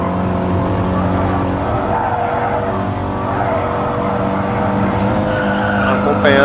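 A race car in a racing video game brakes hard into a corner, tires squealing and skidding over a steady loud engine drone, with a rising whine and scrape near the end.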